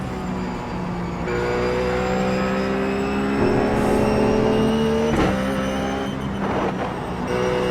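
A Ruf GT3 race car in iRacing at Lime Rock, its engine droning steadily and then pulling harder with rising harmonic whine as it accelerates, loud and continuous with brief shifts, no talk.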